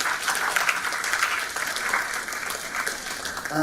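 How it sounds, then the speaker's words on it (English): Warm round of audience applause at a talk, honoring a woman's contributions; brief, dense, close clapping from a room full of people. "a warm round of applause for everything that Rashmi has done"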